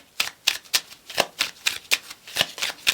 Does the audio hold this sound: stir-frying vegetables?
no